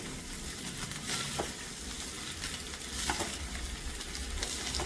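Chicken fried rice with vegetables sizzles steadily in a hot pan over a high flame while spatulas stir and toss it, scraping and clattering in irregular strokes over the constant frying hiss.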